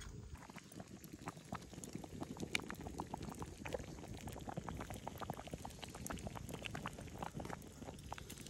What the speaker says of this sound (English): Now we just need to let that thing simmer.